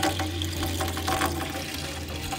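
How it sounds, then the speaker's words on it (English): Coolant draining from the cooling system of a BMW M3 E92 during a coolant change: a steady, continuous rush of liquid pouring out, fairly loud and close with a constant splashing texture. "And now you can see it's free flowing out."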